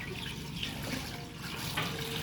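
Tap water runs steadily into a sink, with splashing as something is washed under the stream, close by.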